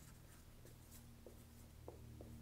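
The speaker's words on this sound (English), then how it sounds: "which I'll write down" A marker squeaks and rubs across a whiteboard in short strokes as numbers are written, faint and alone in a quiet room.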